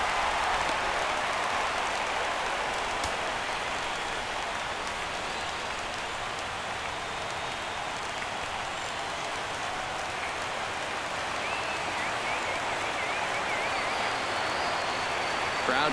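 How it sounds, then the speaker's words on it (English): Steady roar of a baseball stadium crowd in MLB 17 The Show, Red Sox at Texas, swelling as fans rise for a full count, a broad continuous wash of noise throughout. "Crowd gets up for the 3-2."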